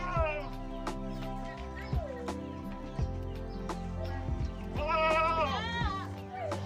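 Young goat kids bleating in a breeding pen holding ten does and two bucks, several overlapping wavering cries close by, one after another, with louder calls near the end.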